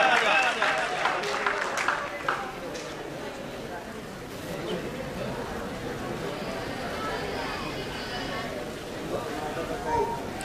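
An audience at an honours ceremony gives a singer a long, dense round of applause that stays loud for about ten seconds, with crowd voices mixed in.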